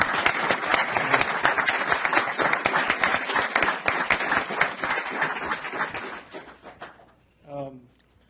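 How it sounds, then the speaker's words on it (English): Sustained applause from an audience at a city mayor and council meeting honoring a world champion middle school archery team, dense clapping that rolls steadily for several seconds before tapering off as a voice begins. "I think we should give a good applause for"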